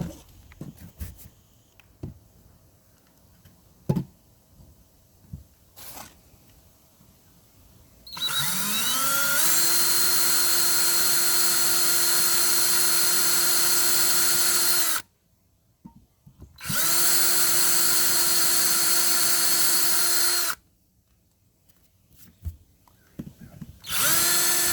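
A power drill bores into the fiberglass cabin top of a boat in two sustained, loud whining bursts of about seven and four seconds, separated by a short pause, with quieter clicks and handling sounds before the first burst.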